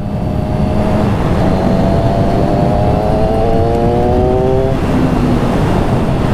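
A Kawasaki ZX6R 636 set up for stunt riding revs hard and loud at close range, the engine note climbing and falling in steady sweeps with no talk over it.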